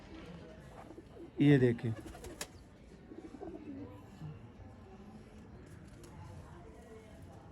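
Pigeon cooing, one short loud burst of throaty coos near the start, then only faint low calls under a voice speaking briefly amid background noise.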